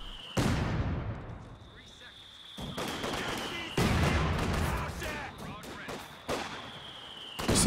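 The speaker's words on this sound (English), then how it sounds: "Tomokaze bringing up mortar now to try and blast away at this" Mortar barrage and gunfire in the WWII strategy game Company of Heroes 2, with repeated loud blasts and bursts of automatic fire over a steady battlefield din and a high whine, punctuated by several sharp impacts.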